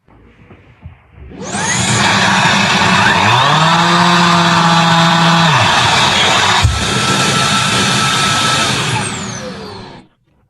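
A Makita DCL284F cordless vacuum cleaner gives a loud, steady motorized whine with a rising pitch at the start, running continuously for several seconds before cutting off abruptly.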